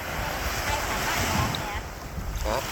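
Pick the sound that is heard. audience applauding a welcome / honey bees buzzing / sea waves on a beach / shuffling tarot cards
sea waves on a beach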